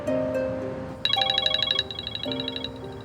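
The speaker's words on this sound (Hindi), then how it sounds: "ये तो किसी के फोन बजने की आवाज आ रही है।" A phone ringtone plays an electronic melody of bright repeating tones, clear and fairly close, with no voices.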